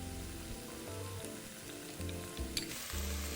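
Meat sizzles and crackles steadily in a hot pan while being stir-fried, with scraping stirs heard close and clear throughout and no talking.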